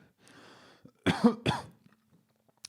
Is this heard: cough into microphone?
yes